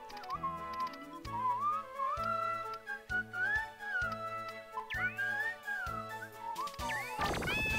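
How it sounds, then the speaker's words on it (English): A person whistles a wandering, bright melody over steady rhythmic music from the puzzle game Bust a Move 2, with a louder crash near the end. "I'm so good at whistling."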